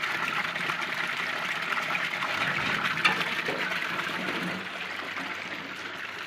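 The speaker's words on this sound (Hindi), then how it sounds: "पानी चालू हो गया" Tap water runs steadily in a bathroom, a continuous close gush and splash that holds at an even level throughout with no talk over it.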